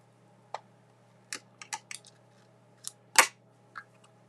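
Scissors cutting paper for a 6x6 one sheet wonder card project produce a handful of sharp, separate snips at irregular intervals, close and clear against quiet, with no talk.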